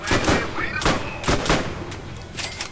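Bursts of gunfire aimed at a sniper in the video game Borderlands, several sharp loud shots in quick succession with a short pause between volleys.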